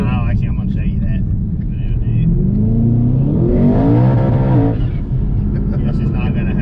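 A Hellhorse twin-turbo 2017 Ford GT engine on a dyno climbs in a loud rising rev, holds at high pitch for about a second, then drops off, with people talking over the roar.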